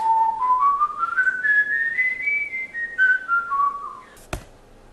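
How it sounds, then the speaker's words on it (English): A person whistles a clear, controlled tone, sliding smoothly upward in pitch and then gliding back down, alone and close with no talking, ending with a brief click. "he has found a way to control the pitch when he whistles"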